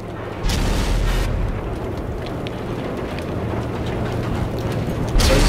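Heavy tank cannon blast from an IS-7 in World of Tanks on PS4, a loud booming shot near the start and another at the end over a steady rumbling battlefield background.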